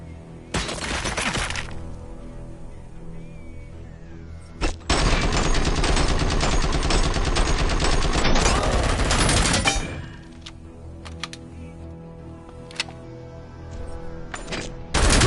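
Bursts of automatic gunfire from enemies in the Robocop: Rogue City video game, one short volley followed by a long sustained barrage of rapid shots with crashing impacts, then sporadic quieter pops.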